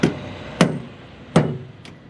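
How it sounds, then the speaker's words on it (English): A hammer whacks a bungee to bend it inward, giving three sharp, close knocks at irregular intervals, each fading quickly into a quiet room. "give it a whack, bend it in as far as it'll go without damaging the other side"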